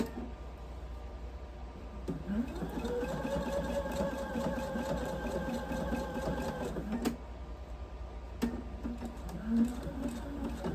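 A sewing machine runs a zigzag stitch in one steady, humming burst of about five seconds, with quieter handling noises before and after.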